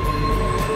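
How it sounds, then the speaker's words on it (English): A subway train arrives at an underground station platform with a steady loud rumble and a sustained high wheel squeal, no voices over it. "especially when a train is coming."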